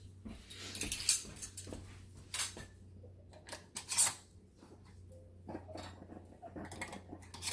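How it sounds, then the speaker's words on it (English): Metal canning jar rings handled and clinked together during potato canning, a run of light, sharp metallic clicks and taps, some louder, scattered irregularly over a quiet background hum. "Let me grab my rings here"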